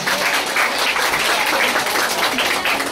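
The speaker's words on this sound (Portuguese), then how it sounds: "Um momento, palmas para elas, para as meninas" An audience at a school event applauds a group of girls after their song, a loud, continuous burst of many hands clapping together, dense and even from start to finish with no talk over it.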